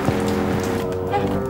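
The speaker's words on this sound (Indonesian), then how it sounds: "Sore-sore gini, Van, dikit lagi pengen buka, hujan gitu ya, tapi adem ya." Rain falls steadily on a late afternoon, a close, even hiss of drops on surfaces that carries on throughout with no pauses.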